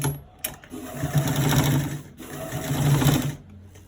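A sewing machine runs in two steady bursts, stitching a roll collar on a V-neck, with a short pause between runs and faint clicks at the start.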